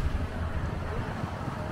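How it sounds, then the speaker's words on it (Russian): Steady wind roars and buffets across the microphone on a boat moving at about 15 km/h in Kaliningrad, a constant low rumble throughout with no talking. "Ветрено, однако."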